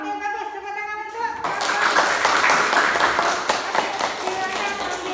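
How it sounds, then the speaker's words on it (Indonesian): A classroom of students claps for a student group, first a teacher's voice and then a burst of dense, close hand clapping that continues steadily with children's voices mixed in. "Tepuk tangan untuk"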